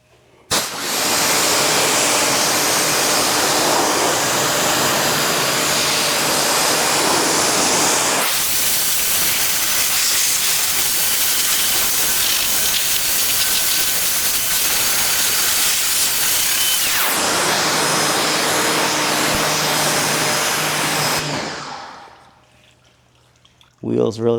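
A pressure washer rinses a car during a UK-style wash, a loud, continuous hiss of spray lasting about twenty seconds that shifts in tone midway as the jet moves, then cuts off near the end.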